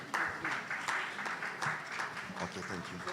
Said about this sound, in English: Please, a round of applause for them, please.